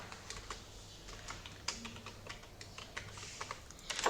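Steady typing on a computer keyboard while entering text during an Android app tutorial, a run of quick close clicks with no talking.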